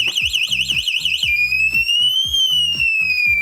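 A Maxxter NEON electric scooter's anti-theft alarm, set off by a light knock, wails loudly and continuously, starting with a rapid warbling tone that shifts into a sweeping siren, with pulsing beeps underneath.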